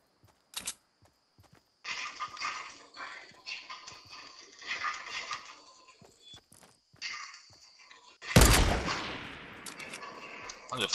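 Gunfire in the Fortnite Battle Royale video game, heard as scattered shots and a loud burst near the end among game effects and building noises, with some voices.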